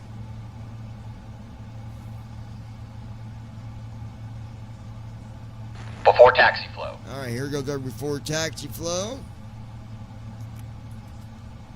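Aircraft engines running at a steady idle in Microsoft Flight Simulator, a continuous low drone that persists throughout, with someone speaking over it partway through.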